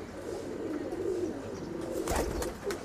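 Jongshira-category pigeons coo softly in a low, continuous murmur, joined near the end by a brief louder burst of nearby movement, with no voices.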